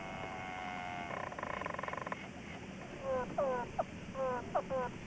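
Recorded insect calls: a buzzing rattling trill, then a run of short chirping, frog-like croaks in an irregular rhythm, faint and close against a quiet background hiss.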